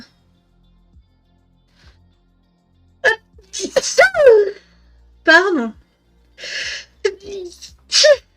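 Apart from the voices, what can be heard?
repeated sneezing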